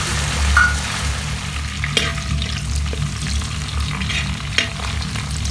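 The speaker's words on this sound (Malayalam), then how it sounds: "പിന്നെ നട്ട്സുകളും അണ്ടിപ്പരിപ്പും മുന്തിരിയും ഇതിലിട്ട് കൊടുത്ത് വറുത്തെടുക്കാം." Cashews and raisins fry in hot oil in a wide pan while chicken biryani is being prepared. A loud, continuous close sizzle runs throughout, broken by a few sharp stirring clicks.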